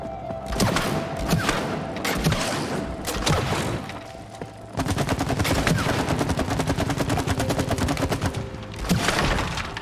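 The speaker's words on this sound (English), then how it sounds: "Look at me! Shooting targets!" Rapid gunfire at practice targets in the video game It Takes Two, bursts of sharp cracks and machine-gun-like strings with brief gaps between volleys, loud and close.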